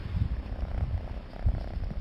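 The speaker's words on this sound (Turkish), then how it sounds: "Bu da bizim kedimizin yavrularından biri." A kitten purrs close by in a low, continuous rumble with a few louder swells. No voices are heard.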